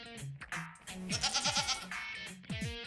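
Sheep and goats bleat repeatedly among herded livestock in Yunnan's Sani countryside, several overlapping wavering calls close by in a steady sequence with no talking.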